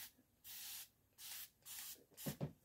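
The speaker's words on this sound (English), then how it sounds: "get a water spray bottle and just give it a quick" A water spray bottle mists a curly wig in three short, quiet hissing bursts at a steady rhythm, followed by a couple of soft rubbing sounds.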